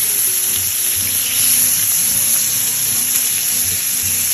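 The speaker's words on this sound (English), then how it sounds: "it's cooking up just like bacon where the fat's rendering off and creating the oil" Homemade English-style back bacon fries in a pan as its fat renders out, giving a loud, steady sizzle close by with soft low knocks underneath.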